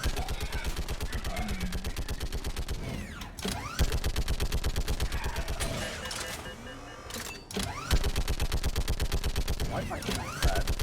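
Rapid, evenly spaced automatic turret-gun fire in Mass Effect 3, loud and close, running in long sustained bursts with a couple of brief pauses and a voice talking faintly underneath.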